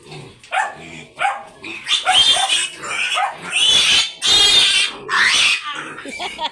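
Loose piglets on a rural farm give several short, high squeals and grunts in bursts, close and loud, interspersed with brief quiet gaps.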